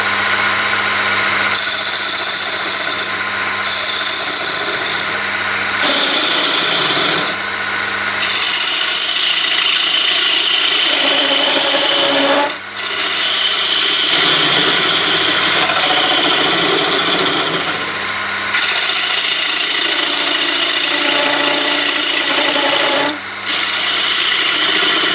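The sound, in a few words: wood lathe gouge cutting nib off small platter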